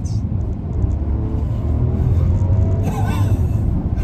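Rolls-Royce Cullinan Black Badge SUV accelerating hard, a loud steady low engine rumble heard from inside the cabin that swells and rises in pitch.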